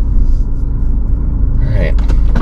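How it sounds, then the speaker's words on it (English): Loud, close car engine rumble from inside the vehicle as it slows to park beside a boat ramp at Johnson Lake, Fremont, Nebraska, with a faint voice and a brief squeak near the end. "I'm gonna park right here."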